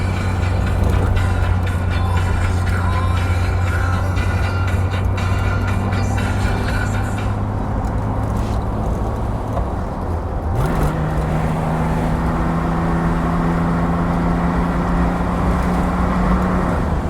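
1963 Chevrolet Corvair Monza 900 convertible cruising on a road, its engine humming steadily with wind and road noise, pausing briefly before the engine note climbs again as the car accelerates.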